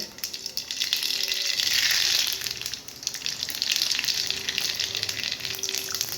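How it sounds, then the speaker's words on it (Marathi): Cumin and mustard seeds sizzle in two ladles of hot oil in a kadhai, a steady, close, hissing fry that swells and eases slightly throughout, with no voices. "तर आता हे मस्त तळलेलं जात आहे"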